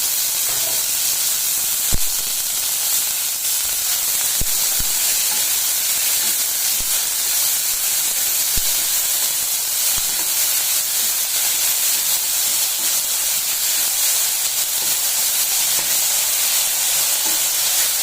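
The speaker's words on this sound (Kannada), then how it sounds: "ಕಟ್ ಮಾಡಿ ಇಟ್ಕೊಂಡಿರೋಂಥ ಮೆಣಸಿನ್ಕಾಯಿನ ಒಂದು ಬಾಣಲಿಗೆ ಹಾಕ್ಕೊಂಡು ಸ್ವಲ್ಪ ಎಣ್ಣೆ ಹಾಕ್ಕೊಂಡು ಚೆನ್ನಾಗಿ ಹುರ್ಕೋಬೇಕು" Chopped capsicum fries in a little oil in a pan, giving a steady, even hiss and sizzle that runs unbroken for the whole stretch, close up, with a few faint clicks and no voices.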